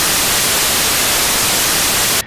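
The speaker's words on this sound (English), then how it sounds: "How to assert dominance using only white noise?" Loud, steady white-noise static hissing evenly across the whole clip, then cutting off abruptly at the end.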